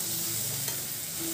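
Masala for khichdi fries and sizzles in a pan while being stirred, a steady close hiss with soft scraping throughout, no talking.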